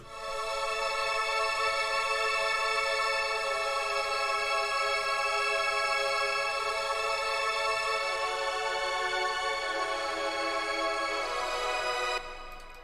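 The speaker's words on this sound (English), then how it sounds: "the chords sound like this" Sustained synth chords for a hardstyle lead, programmed in FL Studio 20, ring out steadily and loud with dense harmonics for about twelve seconds before cutting off, with no talking.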